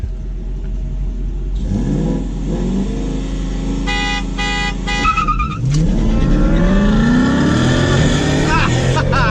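A car horn honks in short repeated bursts amid engine revving and tyre noise during a street race between a 2018 Mustang GT and a Dodge Challenger RT, with voices nearby.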